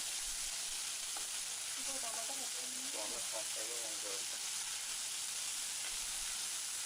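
Chili powder and turmeric fry in hot oil in a pan for a brinjal tomato curry, giving a steady close sizzle throughout, with a faint voice briefly rising in the middle.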